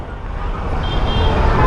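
Steady city road traffic rumble around a brand-new Suzuki Access 125 scooter, with a brief horn toot partway through, continuous and fairly loud.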